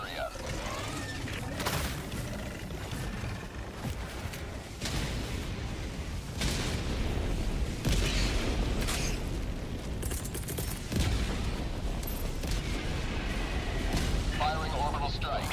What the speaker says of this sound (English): Last reload. Firing orbital barrage.